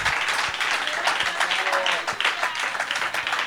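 A church congregation applauds the Lord, with steady, close clapping and individual claps standing out, plus some voices mixed in beneath.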